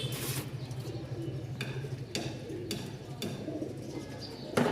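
A Bashiraj kokka pigeon gives soft, low cooing calls in a quiet, faint recording, with several sharp clicks and rustles scattered among the coos.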